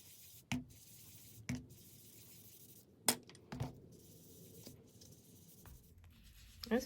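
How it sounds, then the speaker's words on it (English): An ink blending tool rubs across paper in short, separate scuffing strokes, quiet and close, with small pauses and a few light taps between them, no voices. "It's fine for ink blending the paper."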